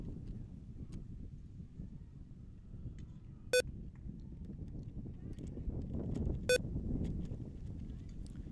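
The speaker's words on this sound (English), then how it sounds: "If you hear a beep in the background there," Two sharp electronic beeps, about three seconds apart, cut through the faint wind and crowd murmur at an outdoor softball game broadcast.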